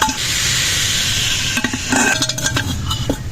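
Meat sizzles loudly in hot oil while a utensil stirs and scrapes against the pot, with clinking metal taps near the end.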